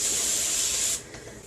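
A steady hiss from a spray bottle misting water onto damp, freshly rinsed natural hair, close and continuous for about a second before it stops.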